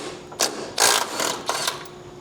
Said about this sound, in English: Now I'm gonna take off the motor mount bolts.